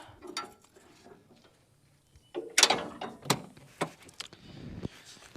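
The cracked rear door of a Nissan GU Patrol, fitted with a wheel carrier, unlatches with a sharp mechanical clunk and swings open, followed by rattling and thumps of the hatch, close to the listener.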